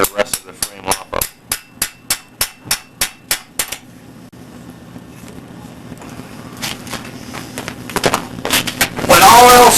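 Hammer striking the frame of a 1949 Indian motorcycle, about a dozen sharp metallic blows in a quick steady rhythm, then quieter shop noise and scattered clanks before a louder clatter at the end.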